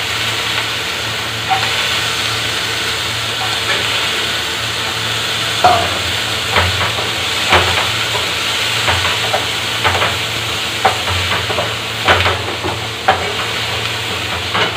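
Sliced potatoes sizzle and fry in hot oil in a pan with asafoetida, a steady close hiss broken by occasional scraping stirs, with no talking.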